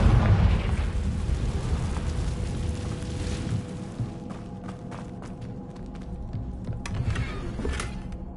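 A Confringo fire spell exploding in Hogwarts Legacy, a loud booming blast with deep rumble that fades over several seconds into crackling debris and scattered small pops.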